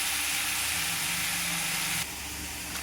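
Ground ginger-onion paste hits hot oil in a pan, giving a loud, close, steady sizzling hiss that eases slightly near the end.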